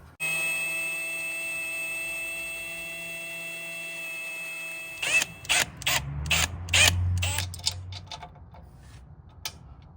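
Set screws on a steering linkage for a 1955 Chevy truck: a steady whining drone from a power tool, then a burst of close ratcheting clicks and metallic clatter, with no voices.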